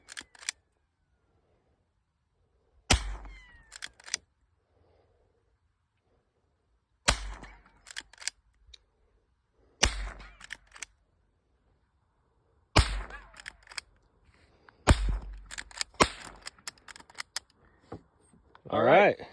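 An AK-47 rifle fired at an outdoor shooting range: sharp single gunshots spaced seconds apart, with bursts of a few shots close together and quiet gaps between them.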